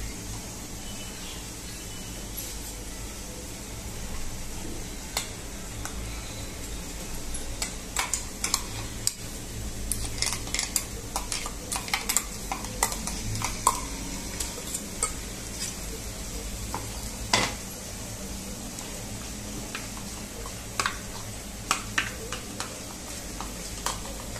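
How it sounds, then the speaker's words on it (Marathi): Ginger, garlic and green chilli paste frying with onions in a pan for pav bhaji, a steady low sizzle with repeated light spatula clicks and scrapes that grow busier midway. "अद्रक लसूणची पेस्ट आहे ना चांगली फ्राय करायची."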